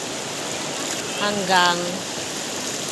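Water falling from above in a natural outdoor spot makes a steady rushing hiss, and a voice speaks briefly over it midway.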